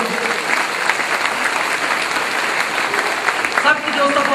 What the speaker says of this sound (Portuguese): Bora aplaudir o Senhor.